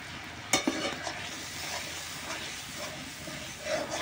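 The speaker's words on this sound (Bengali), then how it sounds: "মশলা একটু কষায় নেব যতক্ষণ না এতে তেল বেরোচ্ছে" Spice masala with turmeric, salt and chilli water sautéing in oil in a pan, a continuous close sizzle and hiss with a sharp scrape of stirring near the start.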